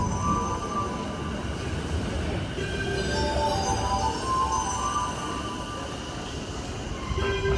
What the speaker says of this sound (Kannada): The rapid train will arrive shortly